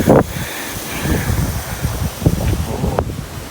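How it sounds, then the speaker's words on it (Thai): Strong wind buffets the microphone at a rocky cliff viewpoint, a steady low rumble with gusts that swell and fade, heard alone without talk. "ตรงนี้ลมแรงนะทุกคน"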